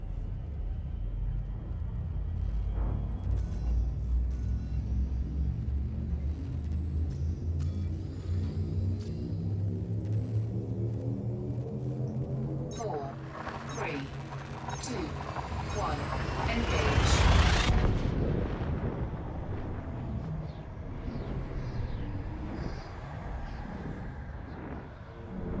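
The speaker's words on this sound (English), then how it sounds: "Let's face it and then charge our FSD. Frameshift drive charging." Elite Dangerous frame shift drive charging and jumping: a deep rumbling drone with rising tonal whine building steadily, then a swelling surge and bright burst as the jump kicks in, fading into a rumbling rush afterward.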